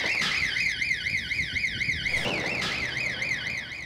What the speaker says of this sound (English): The security alarm at Wembley Park Station has gone off